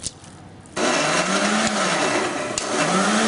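A mixer grinder roars to life after a brief quiet moment, then runs loudly and steadily crushing tender jackfruit, its motor pitch wavering slightly as it grinds.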